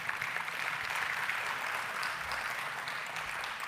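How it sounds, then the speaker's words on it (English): An audience at a university distinguished alumni event applauds a provost, a steady, moderately distant wash of clapping running evenly throughout without a break. "if we could give her a round of applause"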